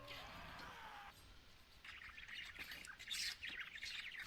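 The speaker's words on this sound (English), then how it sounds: "don't buy a bird if the bird making bird noises is gonna piss you off" A pet bird squawks and chirps loudly indoors, a sustained raspy call giving way to repeated harsh, bright squawks close to the microphone.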